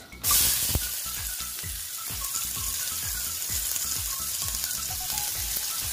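Sliced onions fry in a pan, a steady close sizzle with a sharp burst as they hit the oil, then a continuous bubbling crackle and soft rhythmic stirring scrapes.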